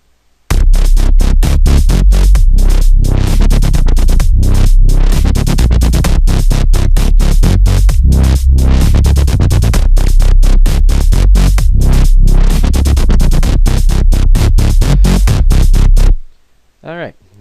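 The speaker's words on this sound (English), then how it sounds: "Alright, that's wobble bass alright." Wobble bass made in FL Studio with a low-pass filter, playing loud over a programmed drum beat and hi-hat, pulsing rhythmically and continuously before cutting off abruptly near the end.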